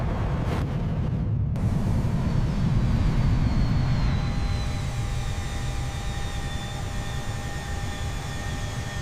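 Jet aircraft taking off from a runway, a loud continuous roar with rising engine whine that holds steady at close range throughout.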